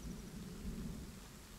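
Rain and a low rolling rumble of thunder in the survival video game The Forest, steady and soft throughout, with no voices.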